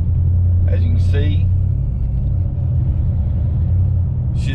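Chevrolet Silverado LTZ crew-cab 4x4 pickup on a test drive with its check engine light on, heard from inside the cab: a steady, loud low engine and road rumble holds throughout while a person talks over it briefly.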